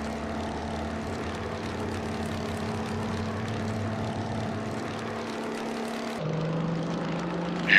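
A Grumman propeller aircraft takes off in a flight simulator game, its engine giving a steady droning hum with tonal harmonics that shift pitch near the end as it climbs.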